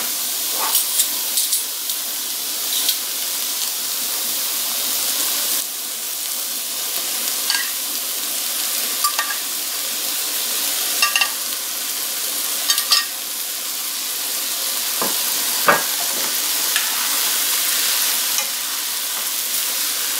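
Noodles with shrimp hit a hot pan and are stir-fried, giving a loud, continuous sizzle and hiss with scattered scraping and tossing clicks from stirring.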